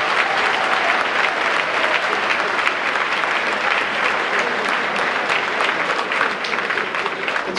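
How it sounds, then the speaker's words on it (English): Sustained applause from a large dinner crowd honouring a college football team, steady dense clapping filling the whole stretch with no pauses. "Let's all put our hands together, round of applause for our football players"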